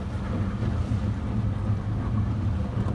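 Wind and choppy waves around a boat sailing solo near Catalina Island, a steady low rushing rumble with microphone buffeting and no talk.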